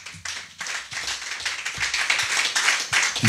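Congregation at a French-language healing church service breaking into lively clapping to acclaim the Lord, dense overlapping claps building into steady applause that grows slightly louder over several seconds.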